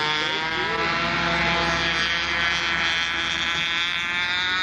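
A Nobler control-line model airplane, relatively new, flies with its freshly tuned engine buzzing steadily and loudly in a continuous high-pitched drone throughout.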